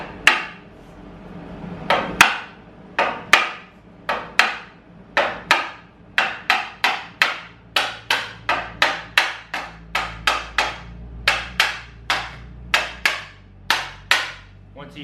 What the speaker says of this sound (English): So we're going to grab a dead blow or a plastic hammer